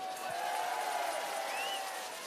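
A large audience applauding at a carnival finale in Gulpen, a dense continuous wash of clapping and crowd noise with voices audible over it.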